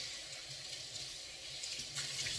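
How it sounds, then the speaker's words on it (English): A cloth being rinsed under a running kitchen tap, the water a steady, close hiss with a faint swishing surge near the end. "rinse this out again"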